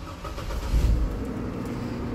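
A 2003 GMC Envoy engine idling, a steady low mechanical hum with a slight swell in the middle, close and alone without talk.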